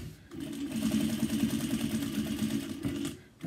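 A sewing machine top-stitches a fabric daypack, running in a steady, rapid mechanical whir and clatter for about three seconds, close and fairly loud, then slowing to a stop near the end with no voices.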